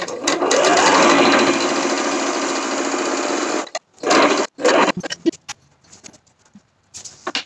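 A home sewing machine stitches fabric for a garment top in a fast, steady whirring run of nearly four seconds, then stops and starts in a few short bursts, close and clear.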